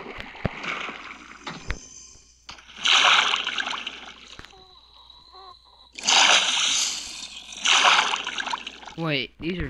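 Minecraft in-game water splashes in two loud bursts between spells of quieter game sounds and tones, with people talking throughout.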